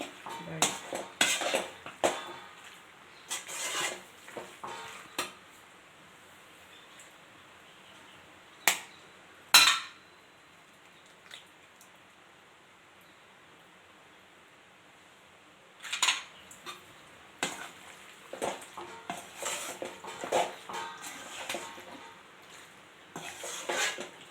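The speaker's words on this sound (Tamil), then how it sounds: "அந்த முட்டையை உடச்சி ஊற்றிடுவேன். அதனால் அப்படியே ஸ்லோ ஃப்ளேமில் வச்சு அப்படியே அது கிண்டி விட்டோம்னா" Egg being stirred in a pan over a slow flame, a utensil scraping and clinking against the metal in short irregular bursts separated by quiet pauses, close and fairly soft.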